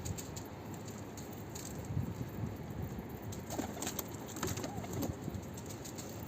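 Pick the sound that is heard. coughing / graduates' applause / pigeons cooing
pigeons cooing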